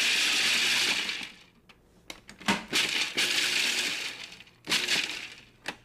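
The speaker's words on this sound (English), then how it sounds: "we're going to start by chopping them in the bowl of the food processor fitted with a metal chopping disc" A food processor fitted with a metal chopping disc whirs loudly for about a second while chopping peanuts, then stops; brief pulses and clinks of chopped pieces follow, with another short burst near the end.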